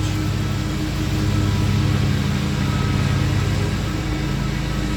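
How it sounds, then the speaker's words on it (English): Steady engine drone of a lawn mower cutting grass next door, constant and fairly loud throughout with a low rumble and broadband hiss, no speech. "You can hear the landscapers next door where they were doing a fine job, cutting the grass fast"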